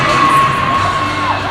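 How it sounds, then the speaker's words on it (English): A raucous, near-sellout crowd roars steadily at a hockey game in Farmington, with a sustained whistle or shrill tone riding over the dense, loud cheering. "It's loud here in Farmington. Raucous crowd on hand."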